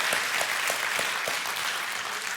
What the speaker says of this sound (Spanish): Dale un aplauso a Elijah.